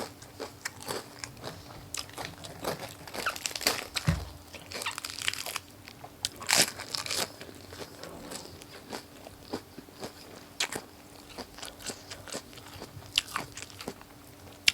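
Crunchy Thai long bean salad and grilled pork being eaten up close, with repeated loud bites, crunches and wet chewing in an irregular rhythm, no talk.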